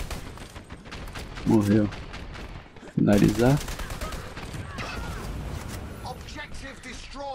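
Rapid gunfire rattles almost nonstop during a Dirty Bomb match, with dense bursts of automatic shots and occasional louder blasts, while a player talks over the action.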